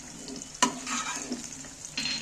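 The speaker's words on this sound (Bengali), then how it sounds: "এইবার আমি গ্যাসের ফ্লেম অফ করে দিয়ে আমি পেঁয়াজগুলো ছেঁকে তুলে নিচ্ছি" Browned onions being lifted out of hot oil in a pan after the gas flame is turned off, with a sharp scrape of the strainer, then steady sizzling and stirring that flares again near the end.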